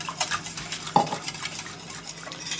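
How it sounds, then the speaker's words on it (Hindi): Vinegar is whisked into mustard paste in a pan: rapid, rhythmic scraping and swishing strokes, close by, with one sharp metallic clink partway through and no speech. "अब आपने इसमें सिरका एक हाथ से ऐड करना है और दूसरी तरफ से आप विस्क चलाएंगे"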